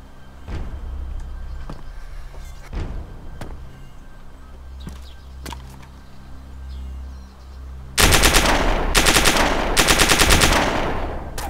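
In DayZ Standalone, a few sharp isolated shots ring out over a low ambient hum before rapid, loud bursts of gunfire erupt near the end and continue in quick volleys.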